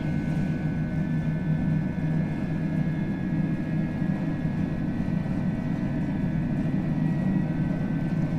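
Airbus A320 jet engines spool at takeoff thrust in the FSLabs flight simulator, giving a steady, loud, droning roar with a sustained whine that holds evenly from start to finish.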